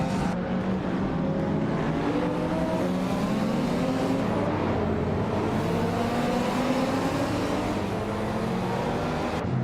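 Racing cars in a video game race, Volvo among them, a dense continuous roar of engines with layered rising and falling pitches, steady and loud throughout.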